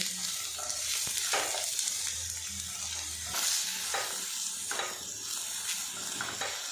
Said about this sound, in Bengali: এদিকে দেখুন বেশ কিছুক্ষণ নাড়াচাড়া করে নিয়েছি, আর পটলটা কিন্তু বেশ ভাজা ভাজা হয়ে গেছে